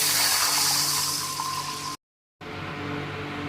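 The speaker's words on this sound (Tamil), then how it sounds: "கருவேப்பிலை போட்டு ஒரு பெரிய டம்ளர் அளவுக்கு தண்ணி விடுறேன்" Water pours steadily into a cooking pan with a rushing, splashing sound, briefly cut to silence before resuming at a slightly lower level.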